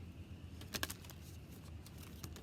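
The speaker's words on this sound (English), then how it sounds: "Cards are not wanting to shuffle." Tarot cards being shuffled, faint quick papery flutters and taps, with a brief cluster of sharper riffles near the start and scattered softer ones after, over a quiet background.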